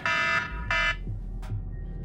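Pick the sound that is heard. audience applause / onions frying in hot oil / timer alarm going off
timer alarm going off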